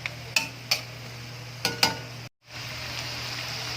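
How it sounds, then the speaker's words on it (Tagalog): Ground pork is sautéed in a pan until golden brown for ginisang mais. A steady soft sizzle sits under five or six sharp clicks of a utensil on the pan, followed by a brief gap, and then the sizzle continues alone. "Igigisa lang natin siya hanggang mag golden brown yung ating giniling"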